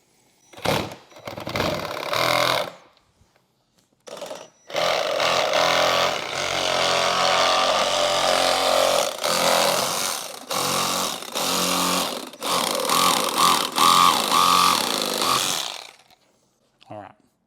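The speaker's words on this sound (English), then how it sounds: "So simply cut a very small amount of plastic." A power tool cuts into the plastic of a 1998-2013 Harley-Davidson motorcycle Tour Pak, a loud close whining buzz in several long bursts separated by short pauses.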